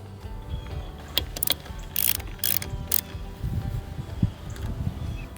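A hand ratchet clicks in short bursts while snugging a bolt on a wake tower swivel arm, the sharp metallic clatters spaced unevenly amid light handling noise, close and moderately loud.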